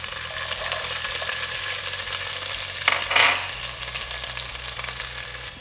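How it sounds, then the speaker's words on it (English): Chopped ginger and garlic sizzling steadily in a hot pan, a continuous loud frying hiss with a brief stirring scrape midway. "Now to this I'm adding chopped ginger and garlic."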